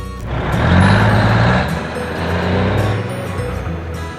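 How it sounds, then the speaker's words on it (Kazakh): A truck rumbles close by with a heavy, steady engine drone that swells and fades, joined by faint high beeps. "Жүк көлігі."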